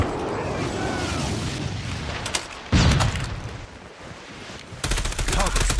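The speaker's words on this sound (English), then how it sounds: "Friendly napalm deployed." Napalm airstrike in Call of Duty Mobile multiplayer, with rapid gunfire bursts, a heavy booming blast partway through and another loud barrage of blasts near the end, all close and forceful.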